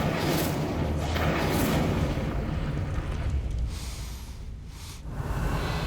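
The Incendio fire spell in Hogwarts Legacy bursts out as a loud, roaring whoosh of flame with deep rumbling booms that swell, dip briefly, then flare up again.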